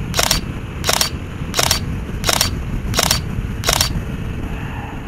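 Six evenly spaced camera shutter clicks, roughly every 0.7 seconds, ring out during an outdoor photo session with a Yamaha MT-07 Tracer motorcycle, over a constant background rumble of wind or distant traffic.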